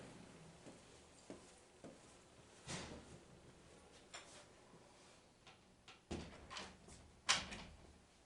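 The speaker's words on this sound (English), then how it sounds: "And now I'm going to go and close the door." A door is shut during a home Passover Seder, with a series of faint knocks and shuffles followed by a sharper latch click, all quiet in a still room.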